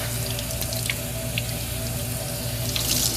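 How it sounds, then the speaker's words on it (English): A kitchen faucet runs cold water into a sink to rinse kale, giving a steady close rush and splash with a few brighter drips and spatters. "just go ahead and turn your water to cold. Give it a quick rinse just to freshen it back up again"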